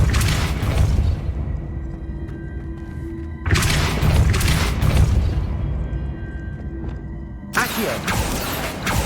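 A Depulso spell cast in Hogwarts Legacy, three loud, booming bursts spaced a few seconds apart, each hitting hard and then fading into a low rumbling tail.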